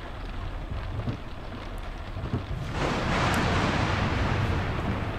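Rain falls steadily during a storm in a video game, then a rumbling roll of thunder swells and holds as a loud, broad wash, with no voices.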